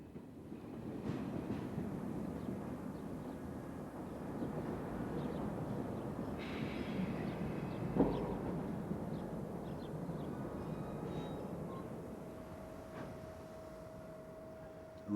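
An electric locomotive climbs a twisting line in southern Europe with a steady rolling rumble of wheels and a continuous hum, a brief clank midway and a faint tone near the end.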